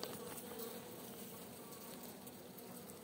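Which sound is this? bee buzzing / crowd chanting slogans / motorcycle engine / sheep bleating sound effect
bee buzzing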